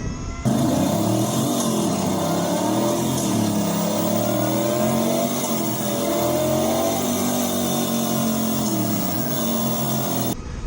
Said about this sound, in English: There's a company right now that's trying to build electric bikes that emulate gas bikes, called Emula.